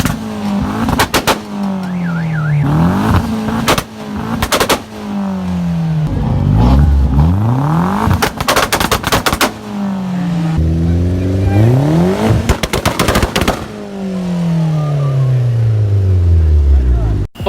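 A turbocharged Jetta with a GT28R turbo revving on two-step launch control at a car meet, loud repeated engine rises and falls with sharp crackling pops, with voices among the bursts.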